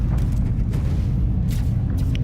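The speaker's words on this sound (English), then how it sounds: "we're blowing away the Guardians" Explosions in a space battle in the strategy game Stellaris, a steady low rumbling roar with soft, muffled booms rising over it.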